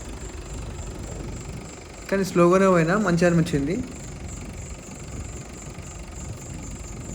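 A tractor engine's steady low drone runs throughout while it works a farm field, with a person talking over it for a couple of seconds midway.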